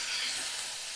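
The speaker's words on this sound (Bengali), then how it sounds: "ফুলকপি ভালো করে ভাজা করে নিচ্ছি। তো রান্নাটা আমি সাদা তেলে করছি" Cauliflower frying in white oil gives a steady, even sizzle with a soft hiss that holds constant throughout the short moment, with no voices.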